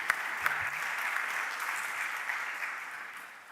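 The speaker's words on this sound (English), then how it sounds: "A round of applause to Dinesh" Steady applause from a conference audience in a large hall, a dense even wash of clapping held at a moderate level, with a couple of sharper claps near the start.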